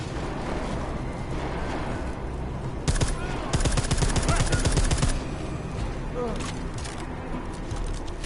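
Gunfire in the Deus Ex: Mankind Divided video game, a sustained rapid burst of automatic shots in the middle of the clip, with scattered single shots before and after over a steady background of game sound.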